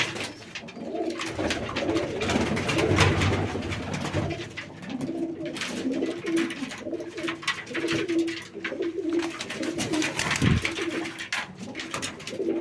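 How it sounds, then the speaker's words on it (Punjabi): Black-tailed, white-eyed pigeons coo steadily in low, rolling phrases, several birds overlapping and close by, against a faint background bustle. "ਕਾਲੀ ਪੂਛ ਵਾਲਾ ਕਬੂਤਰ ਚਿੱਟੀਆਂ ਅੱਖਾਂ ਤੇ ਕਾਲੀ ਪੂਛ ਵਾਲੀ ਕਬੂਤਰੀ"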